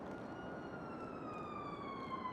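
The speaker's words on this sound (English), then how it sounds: "I hear sirens" Police sirens wail faintly in the distance, a steady drawn-out tone that slowly slides lower, heard alone without nearby voices.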